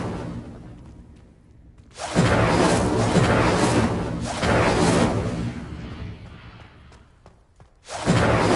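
Bursts of a fire spell in Hogwarts Legacy: three loud whooshing blasts with crackling roar, each swelling and fading over a second or two, separated by quiet gaps.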